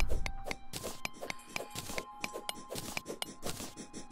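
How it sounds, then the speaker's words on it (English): A burrowing worm enemy in the Terraria video game makes a run of short, regular scratchy clicks, roughly two or three per second. A steady faint tone runs underneath, and the whole sequence stays fairly quiet. "Oh, it's a worm. I was wondering what the hell that sound was."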